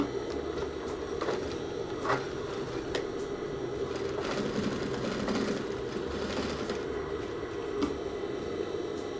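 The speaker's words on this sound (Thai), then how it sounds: "แล้วก็เย็บยึดท่วงปากกระเป๋าล่างนี่ให้ติด ให้ติดกับผ้ากระเป๋านะฮะ" Sewing machine stitching a lower trouser pocket opening to the pocket fabric, a steady mechanical whirring hum running continuously with a few faint clicks.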